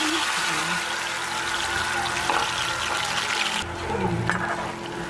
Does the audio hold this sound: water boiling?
yes